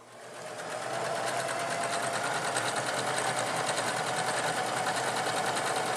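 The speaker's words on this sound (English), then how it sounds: "now we're going to put the cute blanket stitch around the edge" A sewing machine stitches a blanket stitch around the edge of a homemade Christmas stocking, with a steady, fast, close mechanical chatter that runs on without a break.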